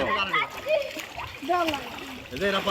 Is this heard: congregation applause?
no